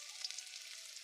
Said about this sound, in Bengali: আমি কড়ার মধ্যে সর্ষের তেল দিয়ে দিচ্ছি, শুকনো লঙ্কা কেটে রেখেছিলাম, আমি রসুন কুচি দিয়ে দিচ্ছি তেলের উপর।